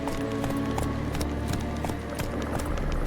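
Roach, a horse in a video game, gallops in a steady rapid clip-clop of hooves that stays loud and close throughout, over a constant game background.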